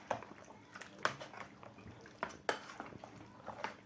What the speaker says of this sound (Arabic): هبتدي ان انا اقلب كل المكونات مع بعضها عشان تدخل وتتجانس مع بعضها